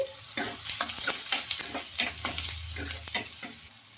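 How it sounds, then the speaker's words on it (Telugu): Chopped onions with curry leaves frying and being stirred in a pan while making potato filling for carrot puris, a steady close sizzle broken by regular scraping strokes of the spatula, with no talking. "ఇంకా ఇప్పుడు ఆనియన్స్ కూడా బాగా ఫ్రై అయిపోయినాయండి"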